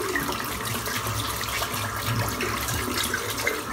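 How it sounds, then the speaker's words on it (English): Tap water runs steadily as a 30mm boar shaving brush is rinsed in a sink, a close, continuous splashing gush with no talking. "let's rinse this brush out."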